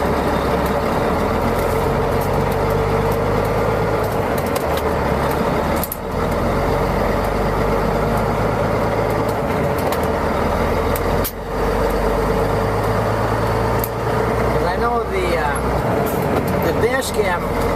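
Heavy truck pulling away slowly, heard from inside the cab: a steady low engine rumble with rising and falling gear tones and brief dips, continuous throughout.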